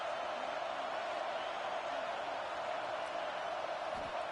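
Steady roar of a football stadium crowd at an LSU vs. South Carolina game, a continuous dense wash of distant cheering and noise with no clear breaks.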